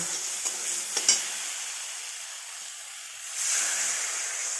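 Water goes into a pan of fried spice paste for a thin stinging catfish curry. A steady sizzle with a few spatula clicks swells into a louder hissing rush near the end.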